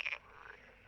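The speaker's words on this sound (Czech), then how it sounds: "Velkou část roku se zde ve dne i v noci ozývají různé druhy žab." Frogs croak near ponds in a sandy gravel pit, a quick burst of calls at the start trailing into a softer chorus, faint and somewhat distant.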